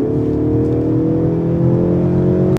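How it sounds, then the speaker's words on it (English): A Mercedes-Benz CLE coupé's four-cylinder engine pulls during sporty driving, giving a steady, droning mid-pitched tone with continuous road and cabin noise and no talking. "decent four cylinder tone to it"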